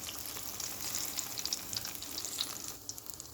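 Sweet plantain slices fry in a pan, giving a steady close sizzle with crackling pops and spits of oil throughout, with no talking.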